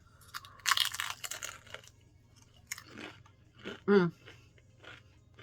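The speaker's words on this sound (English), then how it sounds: "Now let's listen to the crunch." Close crunching bites and chewing of crisp fried cream cheese wontons, a few loud crackly bursts spaced apart, with a brief voiced murmur between them.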